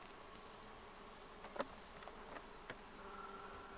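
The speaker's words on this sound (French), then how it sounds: "Très nombreuses ces abeilles domestiques aujourd'hui à cet endroit." Numerous honeybees buzz around a flowering bush beside the sea on wet heathland, a soft continuous hum with a few brief louder passes as individual bees fly close to the microphone.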